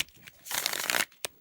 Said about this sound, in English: It still shuffles really well.